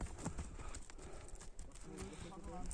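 A horse's hooves clip-clop in a steady walking rhythm, nearby and moderately clear, while people talk over the footsteps.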